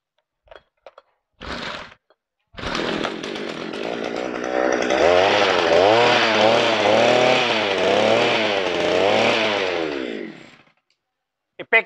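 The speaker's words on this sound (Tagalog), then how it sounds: "ito po yung inyong earth auger o panghukay po ng lupa" Engine-powered earth auger with a 300 mm bit digging into soil: a short start-up burst is followed by a loud, sustained buzzing engine that rises and dips in waves as it bores, then stops.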